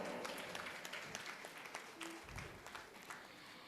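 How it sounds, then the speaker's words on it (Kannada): An audience claps at a golden jubilee cultural program, the applause faint and distant, a steady patter of many hands running through the whole stretch. "ಪ್ರೀತಿಯ ಚಪ್ಪಾಳೆ ಬರಬೇಕು"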